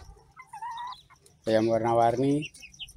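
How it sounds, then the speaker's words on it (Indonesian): A multicoloured chicken clucks softly, then lets out a louder drawn-out squawking call lasting about a second, close by in a quiet setting. "ini si ayam warna-warni"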